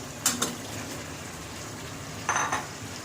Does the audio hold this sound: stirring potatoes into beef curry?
yes